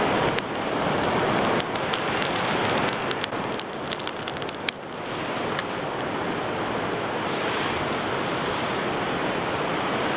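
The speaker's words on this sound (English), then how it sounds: "And the wind is just going to blow this now." Outdoor wind blows steadily across a smouldering amadou ember, a loud broadband rushing roar with buffeting gusts and crackly bursts early on, continuous throughout.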